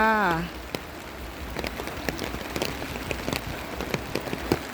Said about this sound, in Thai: 11โมงครึ่งก็ได้ฝนตกลงมาแล้วนะคะ ฝนตกลินลินค่ะ